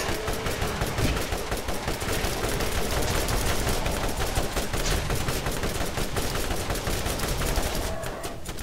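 Continuous rapid gunfire in the Borderlands video game as a whole magazine is emptied, dense and loud for nearly nine seconds with barely a pause.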